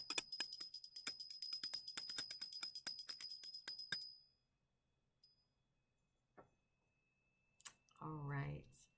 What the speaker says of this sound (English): I just want to clear the energy by ringing this little angel bell